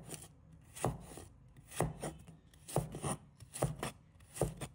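A knife slices ginger on a cutting board nearby in a regular rhythm of sharp, distinct chops, roughly one every half second to second, with no talking.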